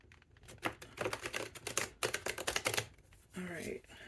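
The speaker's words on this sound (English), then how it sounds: "Let me get another little bit of a shuffle" Tarot cards being shuffled by hand, a quick run of crisp riffling clicks and flutters, fairly close and moderately loud, ending in a brief softer rustle.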